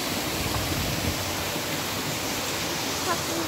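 The waterfall at Darjeeling's rock garden roars in a steady, dense rush of falling water, loud and close, with no break across the whole stretch.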